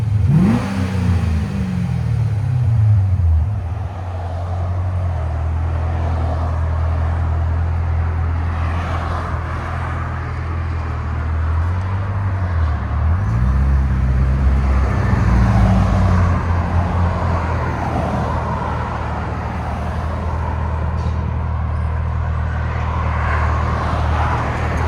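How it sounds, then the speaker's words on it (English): A 2009 Chevy Corvette Z51 with a 6.2L V8 and Valvetronic Designs mufflers, exhaust valves open, rumbles loudly and close by, with deep revs swelling and falling several times over a steady burbling idle. "I got Chevy Corvette, round 2, valves open. Valvetronic Designs mufflers."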